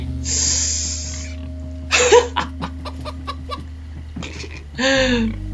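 Chicken clucking and squawking in the video game Minecraft: Story Mode, several close, loud bursts of fowl calls over a steady low game hum, with faint talk mixed in.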